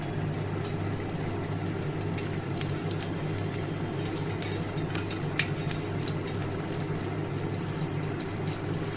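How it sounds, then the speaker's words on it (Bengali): Dried red chillies frying in hot mustard oil, a steady soft crackle and sizzle with scattered sharp pops throughout, close and unbroken, with no voices. "তেল গরম হয়ে গেছে এতে আমি শুকনো লঙ্কাও দিয়ে দেব"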